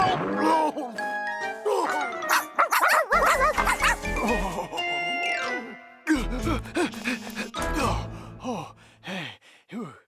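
Cartoon dog barking and yipping in an animated children's show, several sharp barks mixed with whimpers and sighs among music, fairly close and clear.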